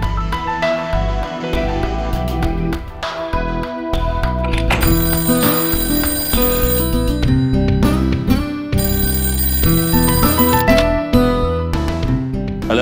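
A telephone rings as a looping electronic ringtone, loud and continuous, with music-like tones and no speech.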